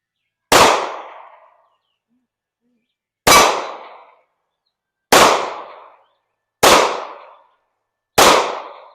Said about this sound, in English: I'm gonna let you shoot him, and then you tell me which CZ shadow to carry.